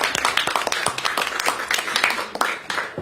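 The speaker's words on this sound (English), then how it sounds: "Let's give them a round of applause, please." A small crowd claps for shop owners at a New York mayoral event, with brisk, uneven hand claps that come through close and fairly loud across the whole short stretch, with no voices.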